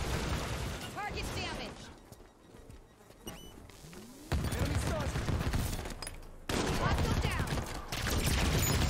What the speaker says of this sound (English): That shotgun shot might have got him too.